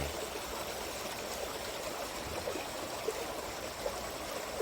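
Water flowing steadily in a small stream beside Bang Phai canal at a forest edge, a continuous soft babbling trickle close by, with no voices.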